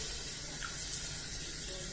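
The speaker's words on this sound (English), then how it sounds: "First step will be to wet my hands with water." Tap water runs steadily into a sink while hands are wetted for handwashing, a continuous broadband hiss with no voices.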